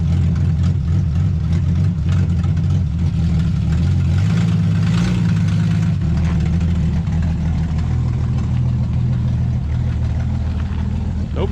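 A 1966 Ford Mustang engine runs steadily, a loud, close, low rumbling idle with a brief rise in revs midway, continuing without a break.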